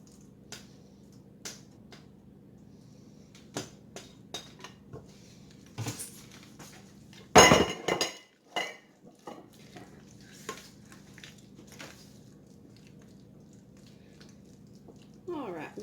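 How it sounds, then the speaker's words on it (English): A mixed filling spooned into a baking dish, soft wet plops and intermittent clinks and scrapes of a utensil against the dish, quiet and sporadic with a louder clatter midway, while a person talks. "Now I'm going to add in this mixture of stuff I have just mixed up"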